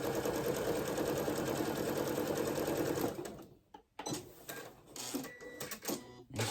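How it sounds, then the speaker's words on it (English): Sewing machine stitching potholder fabric, a steady, close, loud mechanical whir that runs continuously for about three seconds, then stops, leaving quieter handling noises and fabric shuffling. "Okay, and sew that down."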